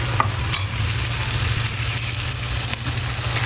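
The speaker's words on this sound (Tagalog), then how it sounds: "Ilagay na natin ang ating binabad na pork ribs." Marinated pork ribs hit a hot pan of sliced white onions, a loud continuous sizzle with a low steady hum underneath and a few scraping stirs, no talking.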